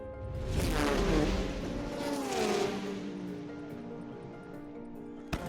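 A Ford GT race car at the 24 Hours of Le Mans roars past, its engine note swelling and dropping in pitch as it speeds by, leaving a fading rumble.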